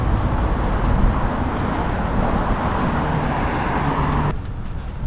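Cars speed past on a Los Angeles street, a broad roaring rush of nearby traffic that swells and holds for about four seconds before dropping off sharply into quieter road noise.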